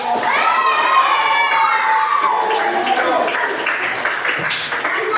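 Classroom group of students cheering and shouting with scattered clapping, a loud lively burst of excited young voices that carries on steadily and tapers slightly near the end.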